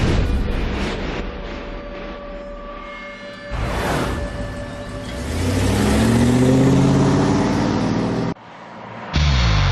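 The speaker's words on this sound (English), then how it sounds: "The F-150 reaches speeds approaching 100 miles an hour, revving up to the red line hours on end" A Ford F-150 EcoBoost pickup tows an 11,300-pound load at full throttle, engine droning and revving with rising and falling pitch, loud and close, ending in a sharp cut.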